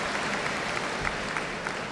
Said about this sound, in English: And more incomprehensible applause.